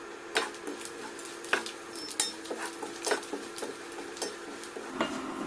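Crushed garlic and cumin fry in a pan, with a soft sizzle beneath repeated sharp clinks of a spoon stirring against the metal at an irregular rhythm.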